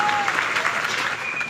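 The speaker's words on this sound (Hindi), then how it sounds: "तो एक बार इनके लिए भी तालियां बजाई जाए।" A crowd at a tribal cultural unity gathering in Dhariyawad claps in a brief, steady burst of dense applause, with a faint whistle-like tone carrying over it.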